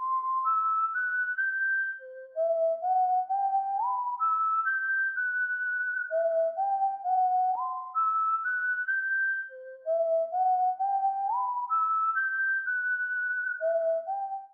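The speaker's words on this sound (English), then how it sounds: "For the next sound, I used Spaghetti Western Whistle, and I made this simple melody." A synthesized Spaghetti Western Whistle preset in FL Studio plays a simple stepwise melody that repeats twice, with clean sustained pure tones and no talking.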